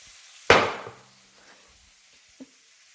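A single sharp crack as cardamom pods are smashed with the bottom of a saucepan against a board, ringing briefly, followed by a soft tap a couple of seconds later.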